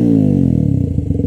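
A KTM RC125 motorcycle with a GPR full exhaust system and no baffling gives a short, loud engine burst, its pitch falling as it revs down and settles into a rough, throbbing idle.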